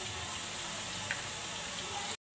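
Ginger-garlic paste hits light golden fried onions in a pan for shahi chana and sizzles in a dense, even hiss that runs unbroken before cutting off abruptly near the end.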